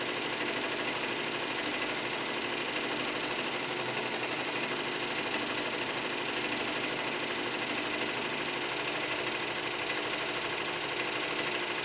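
An embroidery machine stitching a fill area runs with a steady, dense mechanical whir and rapid needle chatter, continuous and fairly close throughout with no talk.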